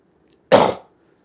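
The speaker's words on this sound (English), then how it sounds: "I've got a bad cough" A single loud cough from a person who says they have a bad cough, one sharp burst lasting about a third of a second, close and alone against a quiet background.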